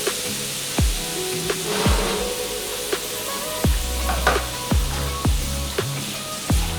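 Masala for Bengali shorshe potol frying gently over a low flame in a pan: a steady close sizzle broken by regular spatula stirs and scrapes, roughly one every half second to second.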